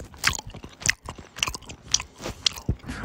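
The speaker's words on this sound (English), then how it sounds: "I got cheese. Cheese ASMR." Cheese chewed close up in the VR shooter Vendetta Forever, a run of wet, crunchy bites and mastication recurring about every half second for three seconds, with no talk over it.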